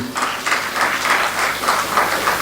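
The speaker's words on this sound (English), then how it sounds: "Mr. Narasingam Iliyatambi, give him a round of applause." An audience at a club inauguration ceremony gives steady, moderately loud applause that lasts throughout, with a faint voice beneath it.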